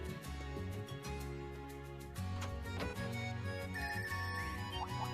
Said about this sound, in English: Oh, it sounds different from the normal ringtone.